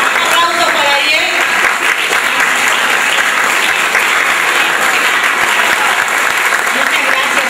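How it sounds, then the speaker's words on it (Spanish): Audience applause at a live event with a presenter, steady dense clapping throughout, loud and close, with a few voices mixed in early. "Un aplauso para Ariel."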